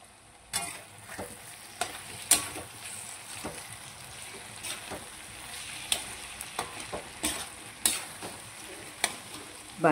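Sliced potatoes sizzle in a pan while being stirred and turned, with soft steady frying under repeated close scraping and clinking strokes of a spoon, no voices.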